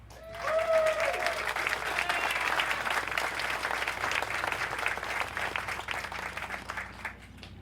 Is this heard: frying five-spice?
no